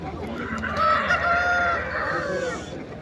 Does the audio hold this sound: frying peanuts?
no